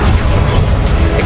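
Confringo fire blast spell in Hogwarts Legacy erupts as a loud, dense rumbling explosion with a deep low-end boom that fills the whole short moment, steady and close with no pause.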